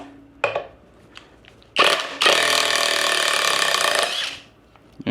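A Seesii 3-in-1 power tool drives a lag bolt deep into wood, with a few short clicks and a brief burst followed by a loud, sustained ratcheting impact rattle lasting over two seconds, then stopping abruptly on its own.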